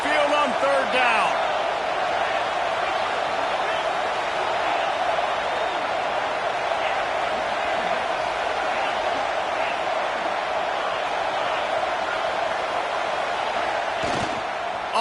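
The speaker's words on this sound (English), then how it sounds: "The Tide crowd rolling noise down onto Saban Field on third down." A large home crowd at Alabama's Bryant–Denny stadium on Saban Field roars on a third down against Ohio State, a dense, steady wall of noise that holds loud throughout, with a broadcast commentator's voice over it.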